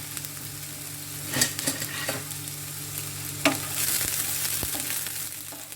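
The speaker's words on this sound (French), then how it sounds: "On va faire revenir l'oignon coupé en morceaux." Chopped onion frying in a pan with a small spatula, a steady soft sizzle under intermittent scraping and stirring knocks, close and moderately loud, no voices.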